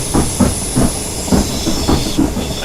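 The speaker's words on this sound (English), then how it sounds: "Class 456 departing." A Class 456 two-car electric train departs in Train Simulator 2018, with a steady hiss and a regular, loud clickety-clack of wheels over rail joints repeating roughly every half second.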